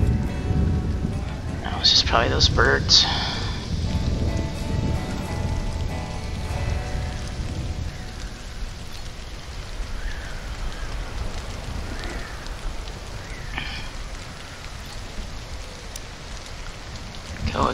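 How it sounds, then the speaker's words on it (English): A thunderstorm in the video game Stranded: Alien Dawn brings a low rolling rumble early on and steady rain throughout, while someone talks over it. "Thunderstorm."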